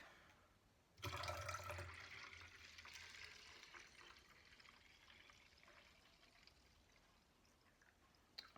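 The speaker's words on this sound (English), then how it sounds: "Then we're adding the distilled water" Distilled water pours into a bottle for a lemon and maple syrup detox drink, starting suddenly as a loud, close splashing rush that slowly tapers and softens over several seconds.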